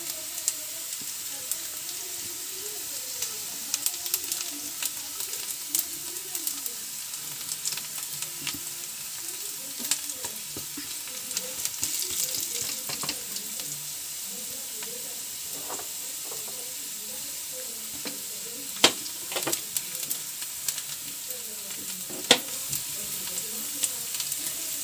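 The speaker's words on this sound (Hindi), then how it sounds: "अब ये हमारा तड़का लहसुन जीरा प्याज अच्छा भुन चुका है" A tadka of garlic, cumin and onion sizzles steadily in hot oil for dal palak, with soft scraping and clinking of a spoon stirring the pan and occasional louder sputters.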